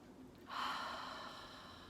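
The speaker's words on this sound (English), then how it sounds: "So go ahead and take a couple deep breaths." A single deep breath taken during a mindfulness lesson for young children, a soft airy inhale that swells suddenly and trails off, faint and close, with no talking.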